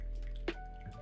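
A single small water drip falls from a Flair 58x manual lever espresso maker at the end of a shot, a brief soft plop over quiet background.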